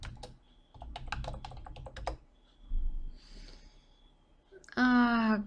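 Rapid clusters of close keystrokes tap on a computer keyboard in short bursts, with pauses and faint breathing between them, ending in a louder voiced sound.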